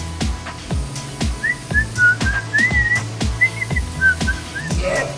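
Someone whistles a simple tune while working on a DIY screen door chicken coop, the short warbling notes riding over rhythmic knocking and thumping work noises close by.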